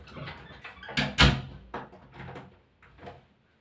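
A door is pushed closed in a patient's room, making a cluster of clunks and knocks with the sharpest impact partway through, then a few fainter rattles as it settles.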